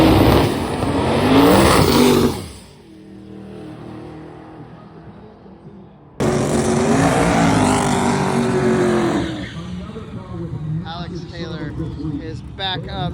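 Drag race car blasting down the strip during a drag week event, a loud roaring pass that drops away, then a second thunderous run surging in and fading, with a commentator talking throughout.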